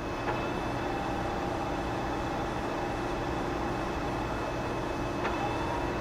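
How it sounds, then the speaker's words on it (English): A transmission running on a tester rig makes a steady, loud mechanical drone with a constant whine, holding fairly even as it spins up to speed. "Listen now as it picks up an RPM."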